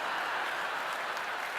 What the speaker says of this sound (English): I won't draw that kind of applause no matter what I say.